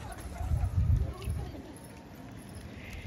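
Patiala pigeons cooing, low throaty coos close by in a short burst early on, then fading to quieter rustling and light clatter.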